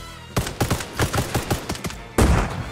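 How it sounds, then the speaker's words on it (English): Bursts of video game gunfire and heavy thumps crack out in Arma Reforger during a zombie fight, a rapid uneven volley of loud shots ending in a bigger blast as a grenade goes off. "I'm throwing a grenade down."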